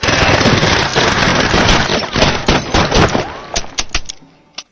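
A rapid burst of automatic gunfire rattles loudly and continuously, then breaks into scattered single shots that trail off.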